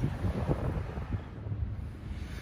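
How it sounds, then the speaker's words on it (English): Strong outdoor wind gusting against a microphone, a loud rumbling buffet that rises and falls steadily without a break, with no voices. "the wind picked up really bad right there"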